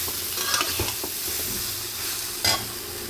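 Raw mango pieces, salted and dusted with turmeric, being mixed by hand or spoon, producing soft irregular stirring and rubbing sounds with one sharper clatter near the end.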